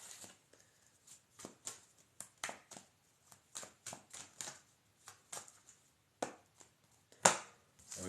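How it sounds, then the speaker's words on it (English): Tarot cards are shuffled in a quiet room, giving soft, irregular riffling and tapping bursts with short pauses and one sharper snap near the end. "we're going to shuffle these cards"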